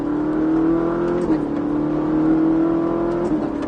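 A Ferrari 458 Italia engine holds a steady high drone on a race circuit, revving and easing off twice as it runs, close and loud.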